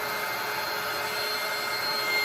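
A heat gun blows hot air onto sole glue during a sole swap of Nike Flyknit Racers onto a Lunar sole, producing a loud, steady, unbroken whooshing roar from start to finish, with no talking.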